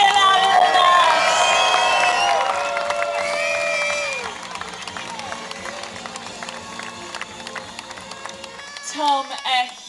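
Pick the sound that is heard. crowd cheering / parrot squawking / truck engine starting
crowd cheering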